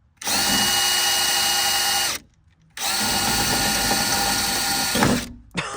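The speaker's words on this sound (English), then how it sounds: "you're just going to want to drill straight into the center of them" A DeWalt power drill bores out the rivets holding a speaker in a 1998 Toyota Corolla, with two loud, sustained high-pitched whines separated by a brief silence and a short clunk at the end.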